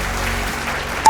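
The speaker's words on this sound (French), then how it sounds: "On l'applaudit bien fort." Audience applauding a contestant at a fashion show, a brief burst of muffled clapping that ends in a sharp, louder transient.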